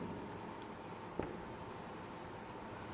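Quiet writing on a board during a math lesson on real numbers, with faint scratchy strokes and one small tap, low and close, with no talk.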